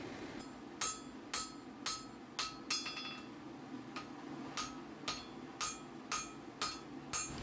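A blacksmith hammers a fuller onto steel clamped in a leg vise, about a dozen sharp ringing metallic strikes at a steady, even pace, close and clear with no talking.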